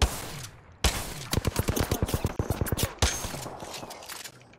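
Automatic gunfire from a weapon in the video game Apex Legends rattles off in a fast, loud burst, with a few separate shots before and after the main volley.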